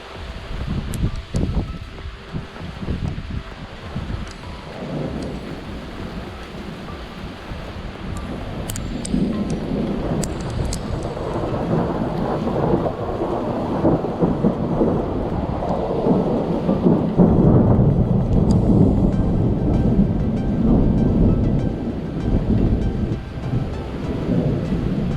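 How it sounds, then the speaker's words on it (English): Hail and heavy rain pour down during a thunderstorm, a dense, steady roar that swells louder over the second half, with rumbling thunder beneath. "Here comes the hail."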